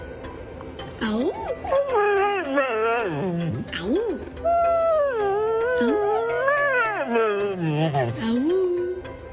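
A husky howls up close in a string of long, wavering, sliding cries, one after another with brief breaks between them.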